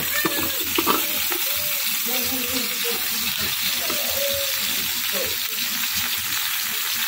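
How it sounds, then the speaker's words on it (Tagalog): Loud, continuous sizzling and crackling of food frying in a hot pan, with occasional stirring and faint voices in the background. "ilagay na natin ang ating manok na medyo na prito na to siya"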